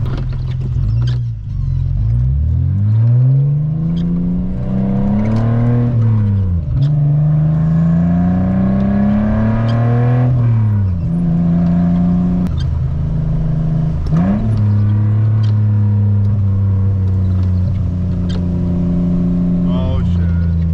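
A car drifts on slick, wet roads during a hurricane, its engine revving up and down in repeated swells and drops, loud and close from inside the cabin, with a voice talking over it at times.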